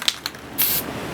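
A short hiss of cheap Home Depot spray paint from a can bursts out alone, preceded by a few faint clicks and rattles.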